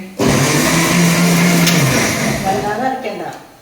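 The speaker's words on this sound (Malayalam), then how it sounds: "തേങ്ങയാണ് കേട്ടോ അരയ്ക്കുന്നത്" A mixer grinder grinding coconut starts abruptly and whirs loudly and steadily, its pitch dropping slightly as it grinds, with a voice speaking underneath.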